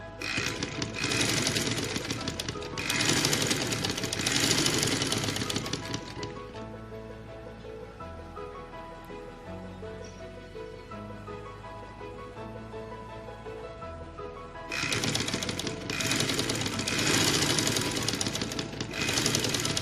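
A sewing machine stitching frock fabric, loud rapid mechanical chattering in two long bursts separated by a quieter stretch of a few seconds, close up with no talking.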